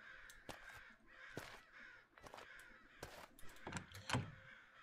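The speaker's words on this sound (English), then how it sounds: "Shut the fuck up, birds." Crows caw repeatedly in a Japanese horror video game, harsh calls that come close together and stand out clearly over a quiet, faintly rustling background.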